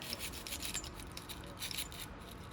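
A brush scrubs oil residue off a Glock 43X pistol part, giving a close, steady rasping rub with quick repeated strokes, fairly quiet and with no talking.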